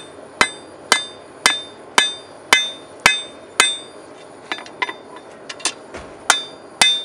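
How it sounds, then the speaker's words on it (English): A hammer strikes a steel skinning knife blade on an anvil during rough forging, flattening a bulge left from forging the clip point; sharp ringing blows land in a steady rhythm at first, then lighter, quicker taps follow, loud and close. "What I'm doing now is flattening out this little bulge of material that I'm getting from forging the clip point in."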